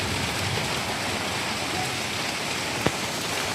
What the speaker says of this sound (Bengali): এই দেখো বৃষ্টি হচ্ছে, এই যে বৃষ্টি পড়ছে, ওখানে জল এসে আমি ভিজে যাচ্ছি, প্রচণ্ড বৃষ্টি হচ্ছে।